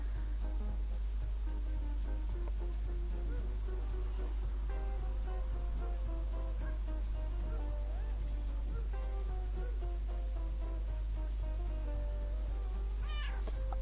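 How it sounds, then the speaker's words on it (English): In a video game where the player is a cat eating dogs, repeated cat meows sound over game music and a constant low electrical hum, with no talking. "I'm now a cat that is eating dogs."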